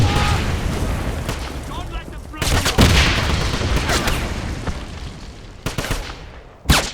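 Heavy gunfire from an overpowered gun in the Wolfenstein video game, a sustained barrage of booming shots with sharper louder bursts later and game noise mixed in.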